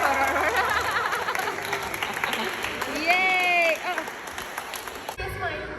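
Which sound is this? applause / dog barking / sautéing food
applause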